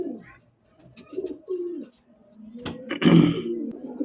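Pigeons coo in low, throaty, repeated phrases close by, with a brief burst of fluttering or rustling near the end.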